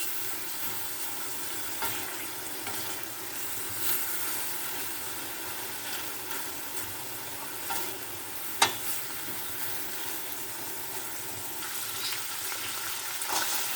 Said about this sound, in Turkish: 3 yemek kaşığı sıvı yağ ile güzelce bir şöyle kavuracağım arkadaşlar